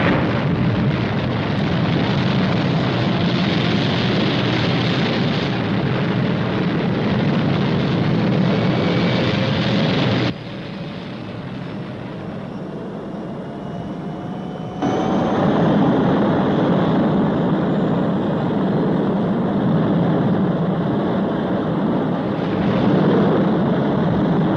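A spacecraft lifting off in a 1964 television series: a loud, sustained roaring rumble with a hissing top, briefly dropping to a quieter drone midway before surging back to full strength.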